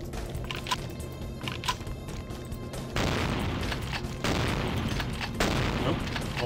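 Shotgun blasts ring out in the Vampire: The Masquerade – Bloodlines video game as a handful of sharp booms over background game noise, growing denser and louder in the second half.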